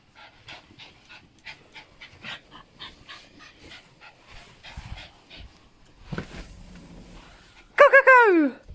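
Several dogs pant rhythmically and close by while out on a walk, a steady run of quick breathy puffs that ends with a loud, high, wavering whine.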